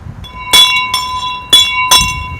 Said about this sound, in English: we need to ring a bell